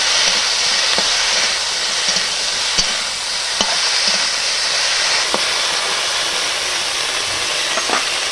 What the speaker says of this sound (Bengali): এই দেখো আমি কাঁচা লঙ্কা আর জিরা বেটে নিয়েছি, বাটাটাও দিয়ে দিচ্ছি। এবার একটু কষা হোক